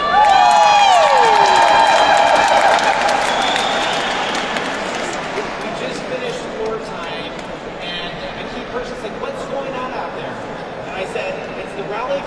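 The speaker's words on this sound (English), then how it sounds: "So we can hear you cheering us on in there." A crowd at the 2024 Rally for Recovery cheers loudly at first, with whoops and a sharp whistle, then settles into softer applause and chatter that continues under a speaker's voice.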